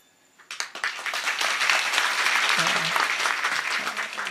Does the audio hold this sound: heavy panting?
no